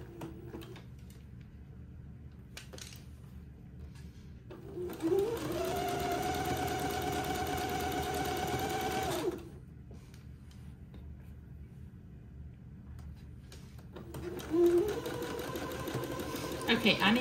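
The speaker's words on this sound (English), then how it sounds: "I need to sew both pieces of laces onto either side of the back panel" A sewing machine stitches lace onto the back panel of a baby daygown in two runs, each a steady whirring burst of a few seconds separated by quiet handling, with someone speaking between them.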